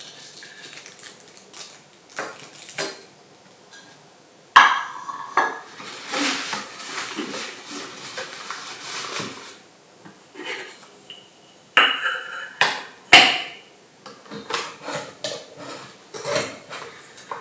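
Metal camping cooking pots clank and rattle as they are handled, with scattered knocks and scraping bursts, two sharper clangs standing out, close by and fairly loud.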